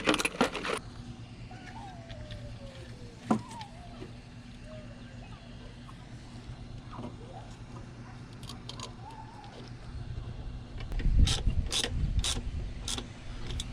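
A ratchet works on the 8 mm throttle body bolts of a Land Rover Discovery 2 during intake removal, giving intermittent close clicks and metallic clatter, busier near the end, over a low steady hum.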